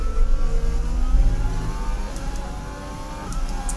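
Formula 1 car engine in the F1 2020 racing game, labouring and sounding strained, a loud continuous mid-pitched drone with shifting harmonics that holds steady for several seconds, with no talk over it.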